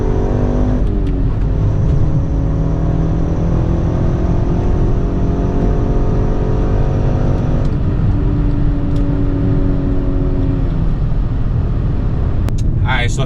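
A 2013-era VW MK6 GTI with a Cobb Stage 1 tune and Stage 2 clutch, engine revved repeatedly to around 3,500 RPM, loud and close, each rev climbing and falling over a constant idle rumble.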